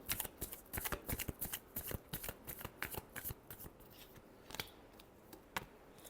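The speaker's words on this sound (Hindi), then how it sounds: "last shuffle" Tarot cards being shuffled close up: a quick burst of crisp riffling flutters and soft snaps that thin out into a few scattered taps, quiet and alone.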